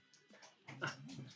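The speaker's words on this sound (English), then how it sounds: "This is the dog that is barking at the background." A small dog nearby gives high yips and whimpering whines in a short, uneven burst, fairly faint, with no talking over it.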